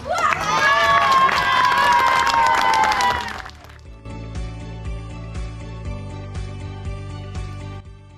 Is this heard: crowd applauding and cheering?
yes